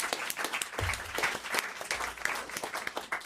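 Studio audience applause on a French radio comedy show, a brief burst of dense clapping with a few louder individual claps standing out.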